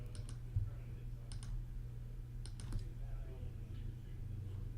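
Computer mouse clicks while tracing a roof outline in home-exterior color visualizer software, sounding as three crisp paired double-clicks spaced about a second apart over a low steady hum.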